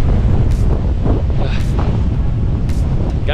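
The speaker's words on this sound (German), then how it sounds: "Und es ist windig wie Sau, aber die Aussicht ist halt einfach überragend." Strong wind on a Scottish beach buffets the microphone with constant heavy rumbling gusts, and faint surf may sit beneath the roar.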